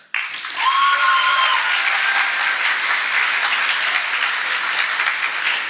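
Loud, sustained applause from a sizable crowd at a hall of distinguished service induction ceremony, dense clapping that swells quickly and holds steady throughout, with a few faint whistles early on.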